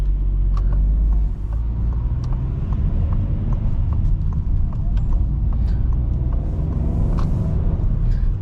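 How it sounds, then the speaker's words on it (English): Citroen C3 Aircross 2022 with a 1.2 PureTech 110 HP engine driving at night, a loud steady low engine and road rumble filling the cabin with no talking. "I'm gonna be a little bit quiet so you can hear the engine"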